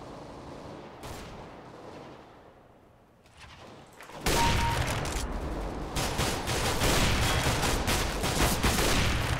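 Shotgun blasts in Counter-Strike: Global Offensive, a dense run of loud reports after a quieter opening, firing almost continuously with no talk.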